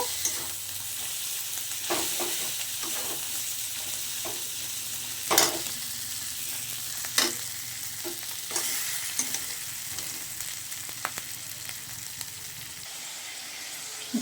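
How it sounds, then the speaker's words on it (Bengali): Fish head frying in oil with bay leaf and black cumin gives a continuous close sizzle, broken by several sharp spoon scrapes and stirring clacks against the pan, with no speech. "তেলের মধ্যে দিয়ে এটাকে আমি এবার কষিয়ে নেব"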